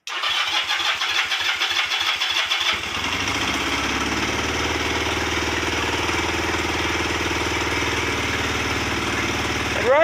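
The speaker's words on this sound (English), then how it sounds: "I'm basically going to start it with the battery and then it'll run without it." A Lifan 250 quad's engine is cranked on the battery with a rapid starter churn for nearly three seconds, then catches and settles into a steady, even idle that runs to the end.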